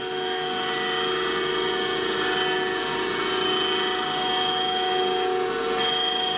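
A steady, continuous grinding drone with a high whine, constant in level throughout, as a grinding wheel works against a prism.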